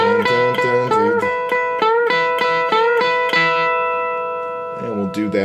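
A clean electric guitar plays a bluesy riff of quick repeated notes and bending double stops in a steady rhythm, the last chord ringing out.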